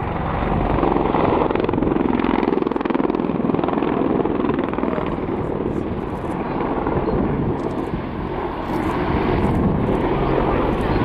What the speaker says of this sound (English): Hunter, we're engaged by rocket-propelled grenades and gunship flew evasive manoeuvres.